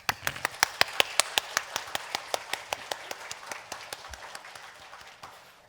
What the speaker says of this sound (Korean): 한번 박수 쳐보세요